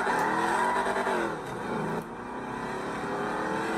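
A car engine revs hard with tires skidding as it runs a man over, a loud continuous roar that dips briefly near the middle before pushing on, with no talking.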